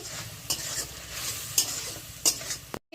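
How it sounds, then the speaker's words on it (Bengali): Onion and chili spice paste sautéing in a pan with a little water, a soft steady sizzle under repeated stirring scrapes, with a few louder clacks of a utensil against the pan before a brief cutoff. "সামান্য পরিমাণে জল দিয়ে মশলাটা কষিয়ে নিচ্ছি"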